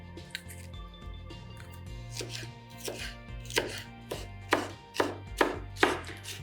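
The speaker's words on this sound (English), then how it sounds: "why am I really chopping things nice and fine?" A knife chops green capsicum finely on a board, a series of crisp close cuts that start soft and grow into sharper, evenly spaced strokes over a low musical background.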